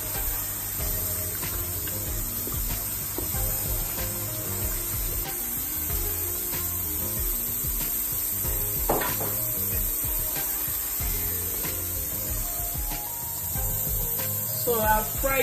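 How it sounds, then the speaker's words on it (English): Steady sizzling of egusi (ground melon seeds) frying in a pot for Nigerian egusi soup, with occasional scrapes and clinks of stirring over a constant background hiss. "And start frying all them together."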